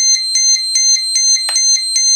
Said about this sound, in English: And buzzer locator.